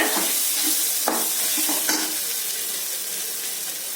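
Chili powder and garam masala are stirred into a pan while making wheat flour noodles, a loud, close, even sizzle with a few soft scraping stirs early on and no speech.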